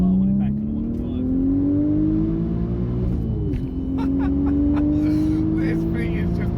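A 500bhp Audi RS4 estate accelerates hard, its engine note climbing steadily, dipping briefly at a gear change, then rising again, loud and close from inside the car, with someone talking over it.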